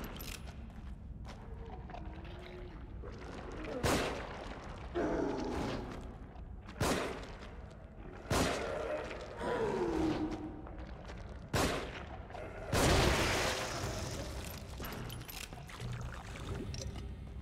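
Gunfire from the survival horror game The Evil Within, with roughly half a dozen sharp, loud shots fired singly at irregular intervals, each aimed for a headshot, over a low background of ambient game noise.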